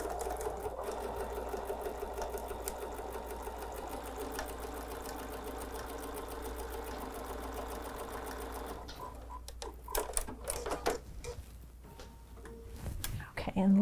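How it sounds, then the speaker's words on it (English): A sewing machine stitches table runner fabric in a steady, continuous mechanical whir, then stops and gives way to a few handling clicks and rustles near the end. "Let me just go sew that."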